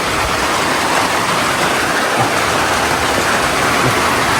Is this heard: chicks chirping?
no